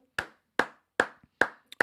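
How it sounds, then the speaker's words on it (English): Five slow, sharp hand claps ring out alone at a steady deliberate pace, close and crisp against silence, with a faint extra tap near the end. "I'm applauding him."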